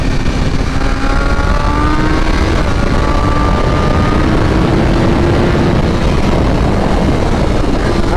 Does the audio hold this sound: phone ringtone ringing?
no